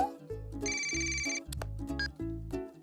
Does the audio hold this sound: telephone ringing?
yes